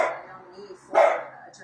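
One sharp dog bark rings out close by in an otherwise quiet indoor space, set against faint low background sound.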